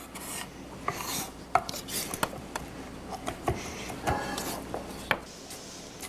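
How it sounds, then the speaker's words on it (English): Knife working through a ripe red tomato, coring and seeding it for concassé on a cutting board: soft scraping and rasping cuts with scattered sharp taps of the blade, close and fairly quiet, no talking. "I'm gonna core it and seed it, and then you'll have a better idea of what a concassé is."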